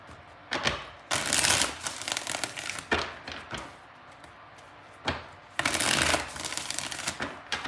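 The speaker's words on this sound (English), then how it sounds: "Last shuffle here for your second spread." A deck of tarot cards is shuffled by hand, riffling in several crisp, papery bursts with brief pauses and soft tapping between them, close and clear.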